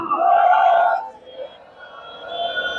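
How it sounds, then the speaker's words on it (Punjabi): A large crowd roars the Sikh jakara slogan in response at a political gathering in the Khadoor Sahib constituency, a loud sustained collective shout that trails off into a second, softer swell. "ਛੱਡ ਦਈਏ ਜਕਾਰਾ ਬੋਲੇ ਸੋ ਨਿਹਾਲ"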